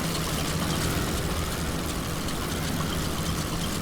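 A WWI aircraft engine drones in flight in Wings Over Flanders Fields, a steady, loud, unbroken roar filling the whole stretch with no break.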